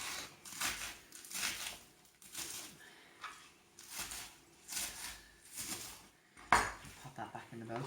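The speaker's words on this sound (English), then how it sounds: "I'm just going to slice the iceberg lettuce" A kitchen knife slices through iceberg lettuce on a board in a home kitchen, giving a series of crisp, close chopping crunches in an irregular rhythm with one sharper clack near the end.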